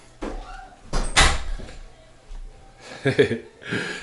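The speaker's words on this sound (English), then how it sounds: "Just closed this door." A door is pulled shut indoors with a couple of solid thuds and a latch knock, close and fairly loud, separated by quieter pauses and a later clatter.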